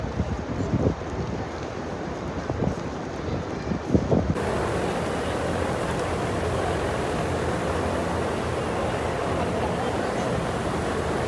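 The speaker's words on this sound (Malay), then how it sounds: "Angin-angin." Wind buffets the microphone outdoors during an umrah trip, a steady rushing roar that is rough and gusty at first, with faint voices beneath, then settles into a constant broadband blast.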